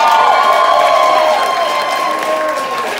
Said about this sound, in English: Big round of applause to Peter Raffel